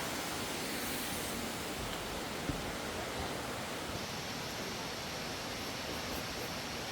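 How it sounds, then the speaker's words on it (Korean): Water from a valley stream flows through a Serbian cave, a steady broadband rush of running water that stays even and unbroken throughout, with no voices. "여기에는 그 계곡 물줄기가 동굴 사이로 흐른다고 합니다."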